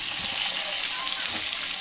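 Eggplant pieces frying in hot oil, a steady loud sizzle that fills the whole short stretch without a break, with a faint voice beneath it.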